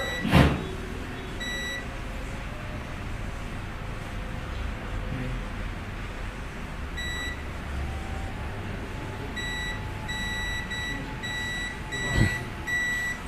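A multimeter on continuity test over a Realme C11 phone circuit board gives short electronic beeps in brief bursts, repeating several times against a low hiss, with a couple of sharp clicks.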